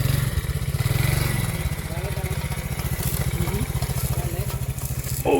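A motorcycle engine chugs and revs steadily on a slippery, muddy rural road, loud and close throughout, with a guide riding it.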